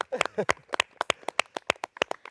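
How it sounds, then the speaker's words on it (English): Quick, evenly spaced claps from a small audience ring out after a brief voice, honouring a prize winner awarded 1,000 Rand on a youth show; the claps are sharp and fairly close. "can we give her a round of applause?"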